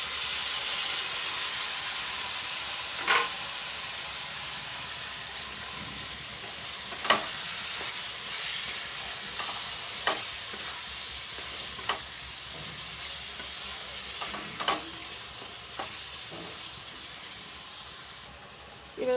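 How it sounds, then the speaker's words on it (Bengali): Taro leaves fry in a pan with a constant broad hiss and sizzle, and occasional faint clicks from stirring. "এবার আমি কচু শাকটা দিয়ে দেব।"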